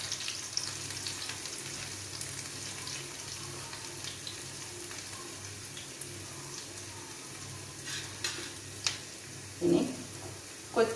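Garlic and ginger frying in a pan for a Kerala-style pork roast: a soft, continuous sizzle at low level, broken near the end by a few sharper clinks and scrapes of a utensil.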